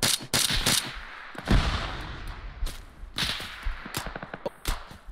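Heavy gunfire in the military game ARMA 3 snaps and cracks in a rapid irregular series of loud, sharp reports, some closer and some echoing farther off.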